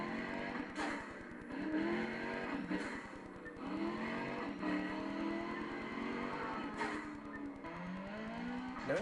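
A Bugatti's turbocharged engine from the 2008 racing game Need for Speed Undercover revs hard through repeated gear shifts, rising pitch sweeps broken by brief turbo bursts, loud and close with no talk.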